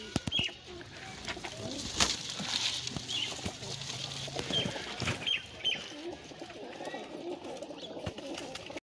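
A newly arrived feather-footed female pigeon coos softly in a home loft, with low repeated calls among faint wing rustles and background voices talking.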